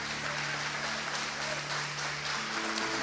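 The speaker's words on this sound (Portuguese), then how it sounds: "Você pode aplaudir Jesus mais uma vez?" A church congregation applauds together in a dense, steady wash of clapping that fills the whole space without letup, with a low sustained tone from music or sound equipment running underneath throughout.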